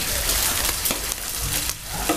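Frog meat sizzles in a hot pan as it is stir-fried, a steady crackling fry close by with occasional scraping stirs, no voices.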